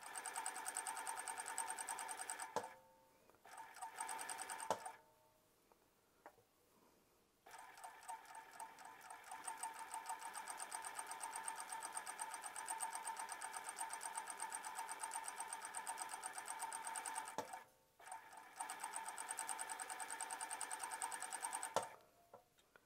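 A sewing machine stitches a folded shirt hem in long steady runs, its fast even whirr broken by a few short pauses, close and fairly quiet with no talking.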